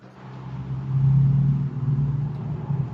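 Steady low road rumble of cars driving by, swelling as one passes close and then easing, with a continuous engine drone and no talking.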